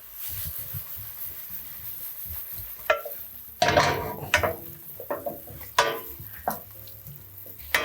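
Carrots are stirred in a pan of sizzling maple syrup glaze, giving a soft steady fry punctuated by close, repeated scraping strokes and light clinks of the utensil against the pan.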